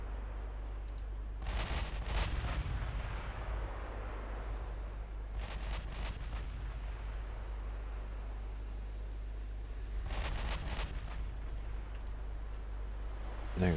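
Rapid bursts of secondary gunfire from a warship in a naval battle game, a few separate clusters of crackling shots over a steady low hum, moderately loud and with no voices.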